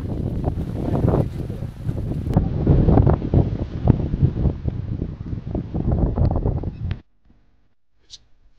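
Strong wind buffets the microphone beside a wide river, with rushing water underneath, loud and continuous for about seven seconds before cutting to near silence with a faint brief sound.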